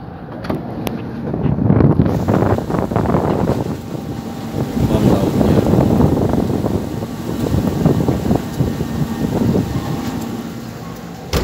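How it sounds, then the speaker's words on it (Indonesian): Strong wind of 15 to 20 knots at sea, roaring steadily across the microphone aboard a boat ahead of a storm, in continuous loud gusty rushes with no talk. "Kencang sekali anginnya."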